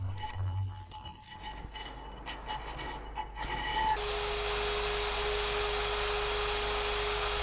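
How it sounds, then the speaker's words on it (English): Sanding and filing casting burrs off cast iron clock parts in a clockmaker's workshop: a scraping, rubbing rasp for about four seconds, then a louder, steady whirring motorized hum takes over near the end, with no talk. "After sanding and filing the casting burrs"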